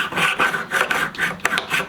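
Plane blade being sharpened on sharpening stones, with steady rhythmic rasping strokes of steel scraping across the stone, close and fairly loud, repeating about every half second with no talk.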